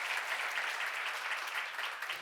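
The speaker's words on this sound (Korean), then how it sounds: "박수를 한번 해주세요." A church congregation at a Korean church academy session applauds together, a dense, even wash of many hands clapping, steady and moderately distant with no voices on top.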